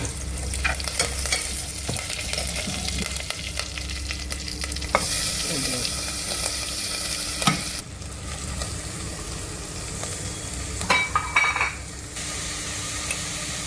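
Garlic and curry leaves frying in oil, with continuous close sizzling and repeated scraping and stirring of a spoon against the pan, occasional metallic clinks.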